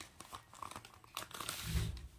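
Crinkling plastic sheet with soft tearing and peeling sounds as sun-dried pumpkin-lentil dumplings are peeled off it, close by, building to a louder rustle near the end.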